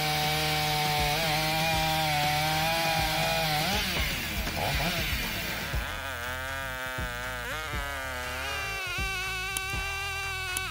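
A Husqvarna 572 XP chainsaw engine whines loudly and continuously, its pitch sagging and climbing as it seems to bite into wood, with no voices.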